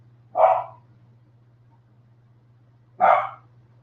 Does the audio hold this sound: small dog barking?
yes